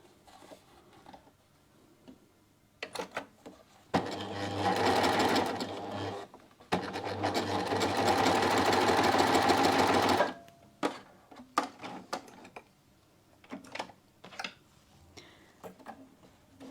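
A household sewing machine stitches in two sustained runs of steady, rapid mechanical whirring, with short bursts and isolated ticks and clicks before and after, close and fairly loud.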